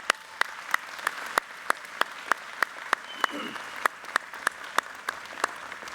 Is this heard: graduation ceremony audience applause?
yes